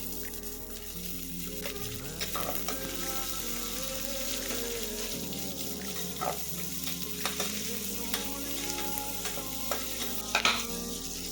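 Onions and whole spices such as cinnamon and cloves frying in oil for chicken biryani, a continuous close sizzle with intermittent stirring scrapes and small pops.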